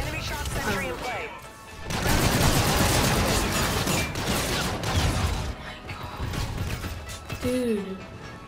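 Gunfire in the video game Call of Duty Infinite Warfare, bursts of rapid shots and mechanical clatter mixed with game effects, with a voice speaking at times.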